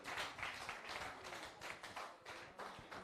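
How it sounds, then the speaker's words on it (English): Scattered hand claps from an audience at a pharmacy sensitization workshop, a dense irregular patter of applause held at a moderate, slightly distant level for a few seconds. "Please give him a round of applause."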